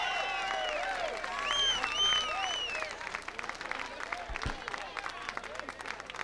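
Audience applause and crowd noise at an outdoor live blues-rock band set at the 1983 Sausalito Art Festival, with steady clapping under whoops and shouted cheers, fading slightly toward the end.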